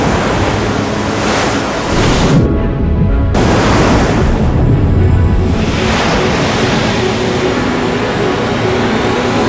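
Ocean surf roars loudly and continuously around a surfer in the lineup, broad washing waves with heavy wind rumbling across the microphone and a brief dip midway.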